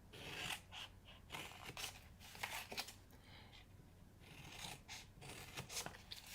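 Scissors snip through card at an angle for a handmade Christmas box, a few quiet crisp cuts with faint paper rustling and handling between them, close up and low in level.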